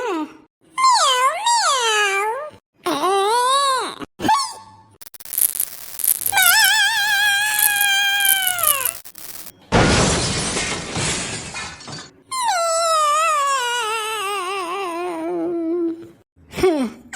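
A cartoon cat in a Tamil animated ghost story gives several drawn-out, wavering meows and wails separated by short pauses. A sharp, crashing shatter bursts in midway.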